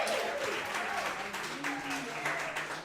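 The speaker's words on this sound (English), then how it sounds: "can we clap it up for my guests here now" Crowd applause for guests celebrating a first-year Baldwinsville girls flag football championship season, steady dense clapping that fills the whole stretch, with a voice speaking over it.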